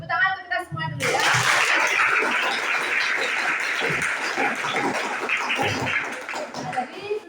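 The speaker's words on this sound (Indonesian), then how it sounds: "Tepuk tangan untuk kita semua dulu ya." A classroom of students bursts into applause after a brief spoken line, clapping densely and steadily for several seconds at close range before tapering off.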